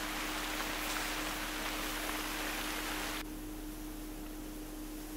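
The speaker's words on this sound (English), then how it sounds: "this rain's really loud" Steady rain pours in the hunting game theHunter: Call of the Wild, a loud, even hiss of rainfall that drops noticeably quieter partway through and carries on alone without any talk.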